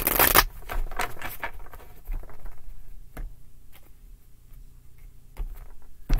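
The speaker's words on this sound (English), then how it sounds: "Two more shuffles. One more shuffle." Tarot cards shuffled by hand in a few quick riffling bursts, loudest at the start, followed by softer shuffles and scattered card taps.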